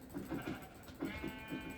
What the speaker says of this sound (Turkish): Koyun varmış şimdi.